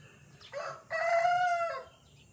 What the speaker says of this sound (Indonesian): Itu suara ayam.